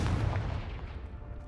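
A Confringo blasting spell from Hogwarts Legacy erupts in a loud, close boom with a deep low-end punch, then trails off into a fading rumble over about a second and a half.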